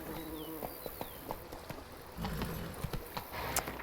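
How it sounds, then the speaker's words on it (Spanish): A horse's hooves clip-clop in The Witcher 3 video game, a series of irregular close thuds over soft ambient insect buzz and game sounds. "Caballo."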